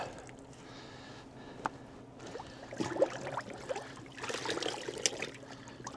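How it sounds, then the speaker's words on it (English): Soapy water is squeezed out of hand-washed laundry at an off-grid property, with soft wet squishes, drips and trickles that come in irregular bursts, quiet and close. "Just gotta rinse or squeeze most of the soapy water out."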